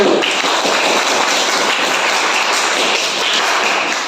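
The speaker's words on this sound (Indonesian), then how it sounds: "Berikan tepuk tangan kelompok 1" A classroom of students claps for the first group after its presentation, a loud, dense and steady burst of many hands close by, with no talking over it.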